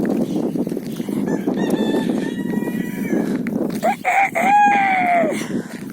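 A rooster crows loudly nearby over a busy background of clucking chickens and outdoor noise.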